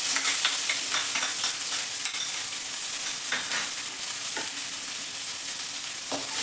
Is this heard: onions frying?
yes